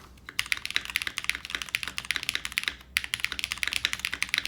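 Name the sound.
mechanical keyboard typing with Nixie spacebar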